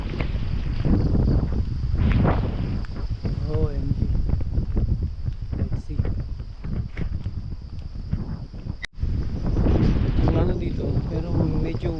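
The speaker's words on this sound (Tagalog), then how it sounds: "malakas na naman ang hangin" Strong, warm monsoon wind buffets the microphone in heavy, rumbling gusts, with voices talking faintly underneath.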